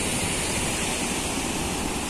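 Ocean surf at Ngelarap beach on the south coast of Tulungagung, a steady, dense wash of breaking waves filling the air without pause, loud and close with no voices.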